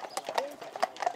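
British Army horses walk with a light, uneven clip-clop of hooves at a rehearsal, faint and close, heard briefly beneath a voice.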